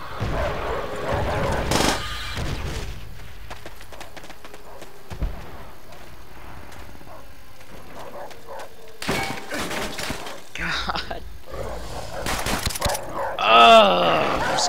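Machine gun fire in the multiplayer video game Call of Duty: World at War comes as short, sharp bursts with thuds and gaps between them, while a voice cuts in near the end.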